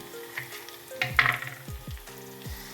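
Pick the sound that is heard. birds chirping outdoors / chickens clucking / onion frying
onion frying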